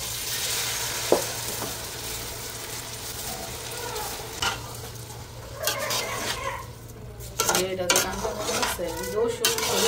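Polao rice frying in a pot with kalo jeera, a steady low sizzle broken by scattered stirring and clinks of utensils against metal, with a faint steady hum beneath.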